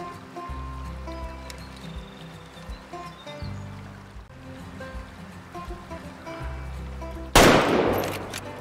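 One loud, sharp rifle shot at a bighorn sheep in the Way of the Hunter game bursts out near the end over a soft background of flowing water and low ambient hum.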